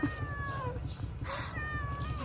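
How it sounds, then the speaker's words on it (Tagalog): A cat meows a few times, drawn-out and wavering, over steady background noise and faint chatter. "may nakaabang na pusa."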